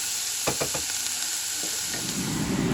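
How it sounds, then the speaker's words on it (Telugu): Ingredients for a black-eyed pea curry frying in a pan make a loud, close, continuous hissing sizzle, broken early by a few quick scraping strokes of a spoon. "ఇది కొంచెం ఫ్రై అవ్వనిద్దాం"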